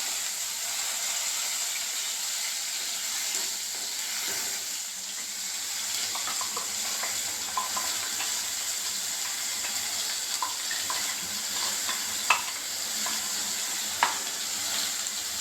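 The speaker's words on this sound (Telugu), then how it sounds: "ఇప్పుడు నేను రుబ్బుకున్న మసాలా దీనిలో వేసుకుంటాను." Ground masala frying in a mustard seed and cumin tempering for fish curry makes a faint, even sizzle with a few soft pops and clinks.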